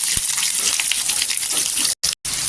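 Two to three chopped onions tipped into hot oil for soybean pulao fill the pan with a loud, dense, continuous sizzle heard up close, broken twice by brief dropouts.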